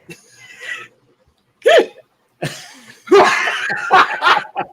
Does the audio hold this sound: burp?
yes